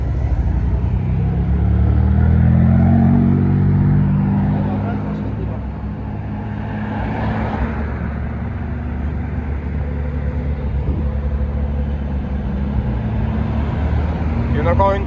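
Numerous sports cars pull away one after another in Saint-Tropez, a loud, continuous low engine rumble that swells near the start and stays steady, with people talking nearby.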